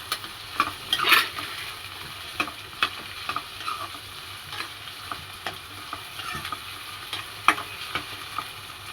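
A spoon stirs gongura prawn curry in a pan over low sizzling, with scattered scraping clicks against the pan at an irregular pace, close and fairly quiet.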